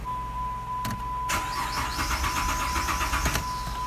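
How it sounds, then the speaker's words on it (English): A 2010 Dodge Charger with a 3.5L V6 cranks and fires up, a brief starter whir followed by the engine catching and settling into a steady idle, heard up close. "Now, we're going to hop in and start the car."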